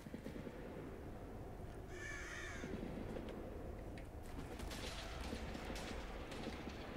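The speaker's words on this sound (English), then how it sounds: "I hear a lot of gunfire." Scattered bursts of gunfire in the Dark Zone of Tom Clancy's The Division open beta, crackling at mid distance over a steady game ambience, with a brief high call-like sound early on.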